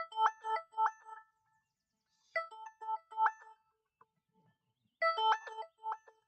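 A phone ringtone sounds indoors in three separate bursts of melodic electronic ringing with silent gaps between them, fairly loud and clear with no talking over it.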